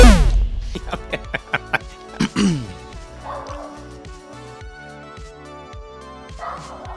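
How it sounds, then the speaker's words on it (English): Dogs bark and yip in a few sharp bursts early on, fairly close, followed by a steady rhythmic musical backing. "Dogs are barking."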